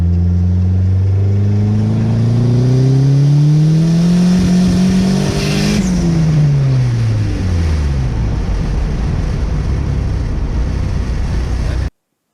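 A Dodge SRT-4's engine revs up with a rising pitch, stumbles and hesitates from an ignition fault, then drops back, with a steady whooshing rush underneath throughout.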